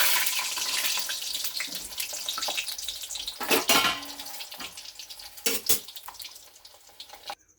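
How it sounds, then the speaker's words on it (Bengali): Pointed gourd (potol) frying in hot oil in a wok, a steady close sizzle with louder bursts of crackle and occasional stirring or clattering, no talking. "এবার পটলগুলোকে আগে ভেজে নেব।"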